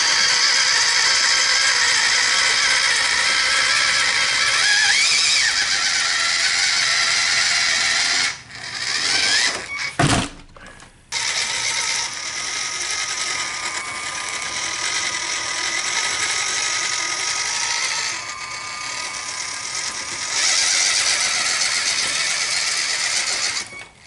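WPL C14 RC truck climbing a 50-degree slope, its small motor and gearbox giving a steady high mechanical whine that dips briefly near the middle and then resumes, close and without speech.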